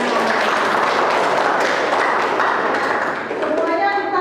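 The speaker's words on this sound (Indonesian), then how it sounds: "Berikan tepuk tangan." Classroom applause fills the room in a sustained wash of many hands clapping, steady and loud, tapering slightly near the end.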